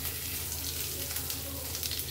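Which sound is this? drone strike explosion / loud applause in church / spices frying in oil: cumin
spices frying in oil: cumin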